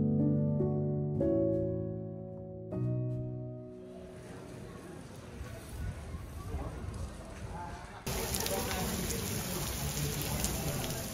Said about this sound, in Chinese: 曼谷的天气总是一言不合就下雨，突如其来的一场雨也扰乱了游客游览的节奏。